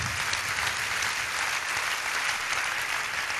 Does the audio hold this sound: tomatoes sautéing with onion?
no